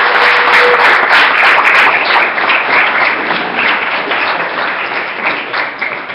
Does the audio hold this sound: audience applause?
yes